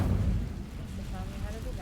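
Incendio fire spell from Hogwarts Legacy igniting dry vines, a loud low whooshing burst that fades into a steady rumbling crackle, with faint tones drifting above.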